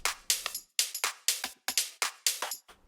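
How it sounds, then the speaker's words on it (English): A quiet low percussion loop in a deep house track, short, bright hand-drum hits with a little low body, bouncing in a steady syncopated pattern for about three seconds. "To make it sound fuller, you can use some low percussion drum loop,"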